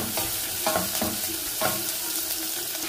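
Chopped onion sizzles and crackles in a hot frying pan while it is stirred, with a steady hiss underneath and a few sharper scraping stirs standing out, close and fairly loud with no talking.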